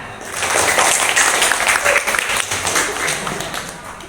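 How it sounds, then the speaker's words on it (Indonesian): Students in an Indonesian classroom clap for a classmate's answer. A burst of loud, close group clapping swells quickly, holds, and then thins slightly toward the end. "tepuk tangan"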